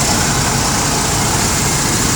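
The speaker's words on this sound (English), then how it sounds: "Not a bad running V8." A 5.2-litre V8 in a 1990 Dodge RAM 250 van idles steadily, a loud, close, continuous engine rumble with no voices.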